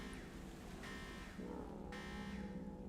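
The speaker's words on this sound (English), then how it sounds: "a buzzing alarm noise echoes through the woods" A buzzing alarm echoes through the woods in the game Rottenroots, a faint, steady harmonic drone that shifts pitch partway through over low background ambience.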